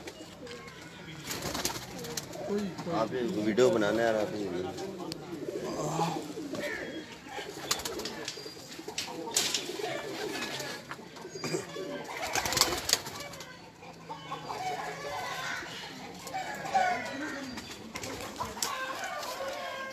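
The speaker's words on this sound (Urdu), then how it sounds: "آٹھ دس کبوتر ٹیڈی باہر نکال رہے ہیں" Teddy pigeons coo softly in a cluster amid rustling and wing flutters, with a person speaking briefly in the background.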